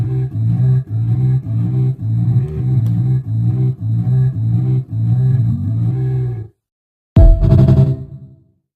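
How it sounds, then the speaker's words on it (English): A distorted synth bass built from a zombie groan run through an amp, pulsing in a steady rhythm of loud, growling notes for about six seconds, then a brief silence and one final heavy distorted hit. "Now I got a distorted bass."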